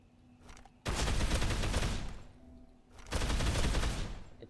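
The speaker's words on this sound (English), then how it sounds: "Level 4 has a higher rate of fire." A level 4 auto rifle in Dead Island fires in two rapid bursts of automatic gunfire, loud and dense, separated by a short pause.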